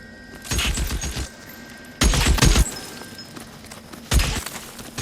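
Three loud bursts of gunfire ring out in an L.A. Noire shootout, each volley a cluster of sharp cracks separated by brief pauses, close and punchy.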